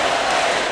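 Arena crowd noise from the basketball video game NBA 2K24 is a dense, steady roar of cheering at high volume that fills the whole moment without a break or a clear voice.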